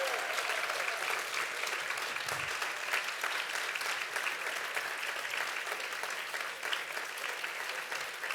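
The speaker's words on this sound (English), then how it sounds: "can we give these folks a rousing round of community applause" Community applause at a university service awards ceremony: a crowd claps continuously and evenly, a full, steady patter held at moderate level without voices on top.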